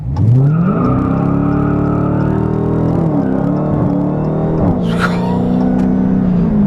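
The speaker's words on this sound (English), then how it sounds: "First gear, wheel spin." Dodge Challenger SRT Hellcat in street mode with traction control on, spinning its wheels in first gear: a loud, close supercharged V8 roar rising in pitch, with a brief tire squeal near the end and no talking.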